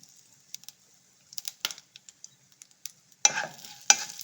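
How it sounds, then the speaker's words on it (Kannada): Urad dal crackling in hot oil in a pan for tomato and coconut chutney, soft scattered pops and ticks building into louder sizzling bursts near the end, close by with no talk. "ಸ್ವಲ್ಪ ಫ್ರೈ ಆಗಲಿ ಉದ್ದಿನಬೇಳೆ"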